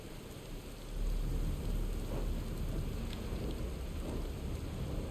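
Rain and thunder in Final Fantasy XVI: a steady hiss of heavy rainfall with a low rumble of thunder swelling after the first second and rolling on beneath the downpour.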